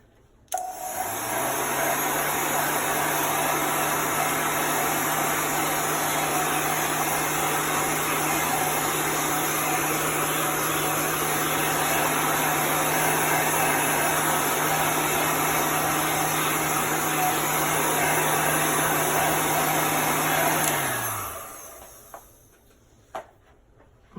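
A hair dryer drying chalk paste on craft tags runs as a loud, steady whir for about twenty seconds, then winds down and stops, followed by a few small handling clicks.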